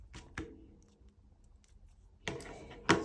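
Paper tape is cut with scissors, giving a few crisp snips close by: one pair of quick cuts near the start, a quiet pause, then two more sharp cuts near the end, with no talk.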